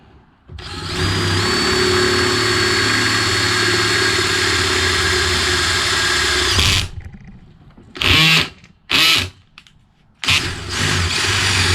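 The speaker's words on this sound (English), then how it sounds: "I gotta drill a hole there all the way through." A power drill whines continuously for several seconds boring a hole through a Toro Recycler push lawnmower part, then stops, followed by a few short bursts of drilling, loud and close.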